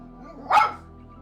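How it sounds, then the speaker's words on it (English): A puppy lets out one short, sharp bark indoors, close and fairly loud over a low steady hum. "Pup, stop barking."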